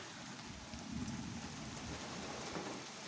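Steady rain drums on a roof in a continuous dense patter, with a faint low rumble that may be distant thunder and no voices.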